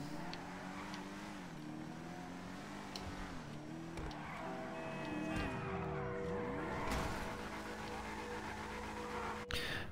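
An Albany V-STR car drives in GTA Online, its engine note steady with rising and falling revs as it shifts, fairly quiet throughout.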